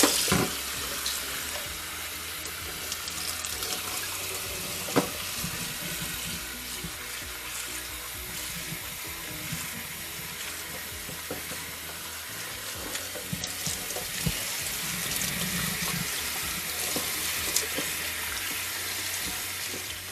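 Steady running water from a tap splashes while izote flowers are rinsed in a kitchen, a continuous close hiss with small clatters and no talk.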